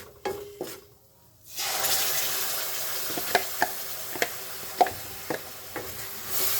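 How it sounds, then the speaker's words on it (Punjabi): Peas and freshly ground spice masala sizzle steadily as they roast in a pan, with a spoon scraping and tapping against the metal at irregular intervals, close up and without talk. "ਹੁਣ ਆਪਾਂ ਇਹਨਾਂ ਨੂੰ ਸਵਾਰ ਕੇ ਭੁੰਨਾਂਗੇ"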